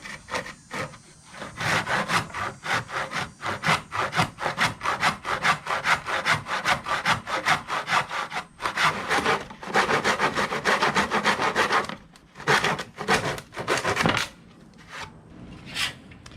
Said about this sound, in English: So I'm working on sawing this part off